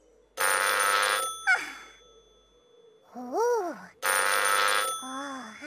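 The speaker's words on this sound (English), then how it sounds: "Phone is ringing" A telephone rings twice in loud electronic bursts, and between them a voice sighs and makes a rising-falling vocal sound.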